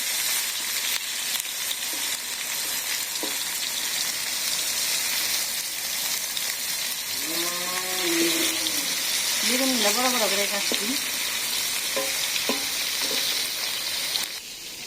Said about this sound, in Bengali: নিরামিষ রসা নিচ্ছি তো ভালো করে ভেজে নেই চামচ দিয়ে দিচ্ছি